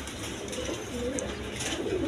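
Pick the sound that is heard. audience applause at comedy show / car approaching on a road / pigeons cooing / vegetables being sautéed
pigeons cooing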